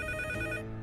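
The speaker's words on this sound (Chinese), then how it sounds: "电话铃声又急促地响了起来" An old-style telephone bell rings urgently in a police office, a steady, insistent metallic ring held for under a second, close and alone with no voices.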